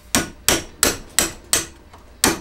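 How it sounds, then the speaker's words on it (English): A hammer strikes a steel punch to drive a pin out during a skoolie bus roof-lift conversion, six sharp metallic blows at a steady beat with a brief pause before the last, close and loud. "I can use a simple punch and a hammer and knock the pin out in the middle."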